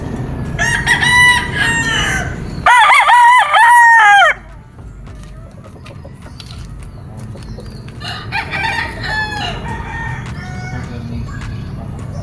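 Several gamefowl roosters crow loudly at a game farm, with repeated overlapping cock-a-doodle-doos and clucking against a steady outdoor background, the strongest crow close by near the start.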